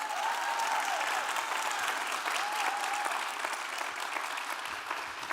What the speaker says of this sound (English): Please give another round of applause for Sydney.